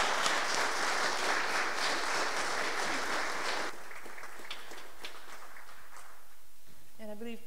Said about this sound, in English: I think they deserve a big hand of applause.